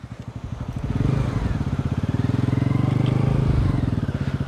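A Bajaj Pulsar RS200 sports motorcycle engine idling close by with a deep, rapid thumping pulse, revving up slightly and holding steady.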